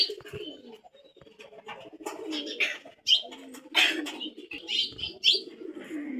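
Pigeons coo repeatedly in low, throaty phrases nearby, mixed with scattered brighter chirps from other birds and occasional rustling, with no clear talking.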